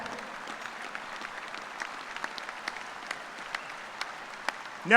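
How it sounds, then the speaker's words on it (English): Crowd applause at a spring agriculture commencement ceremony, a steady wash of many hands clapping throughout, fairly distant and even, swelling slightly at the very end. "Give them a hand."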